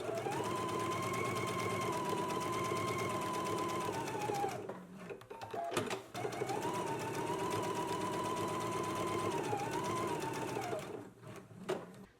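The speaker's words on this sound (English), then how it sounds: "Let's go ahead and do our gathering stitches now." Sewing machine running steady rows of gathering stitches on a garment: two long, even motor runs of whirring needle strokes, each lasting several seconds and ending in brief clicks and handling noises, close and clear with no talking.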